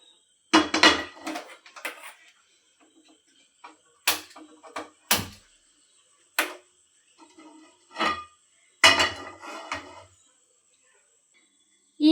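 A metal kadai being set down and handled on a kitchen counter before roasting chutney ingredients, with sharp separate clanks and knocks spread out among quiet gaps.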